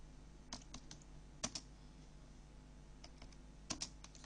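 Computer keyboard keys tapped while entering network commands to bring a router port up, a quiet sparse run of soft clicks with brief clustered presses over a steady low hum.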